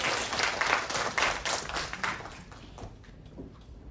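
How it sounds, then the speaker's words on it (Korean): Audience applause at a university early childhood education department's academic festival presentation, a dense burst of clapping that swells through the first two seconds and then thins out to a scattered patter. "큰 박수로 맞이해 주십시오."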